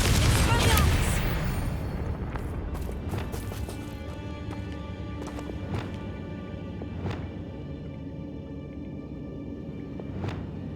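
A Confringo fire spell explodes in Hogwarts Legacy, a loud booming burst at the start that fades into a rumbling tail, followed by several sharp crackling impacts spaced through the rest of the clip, with game ambience underneath.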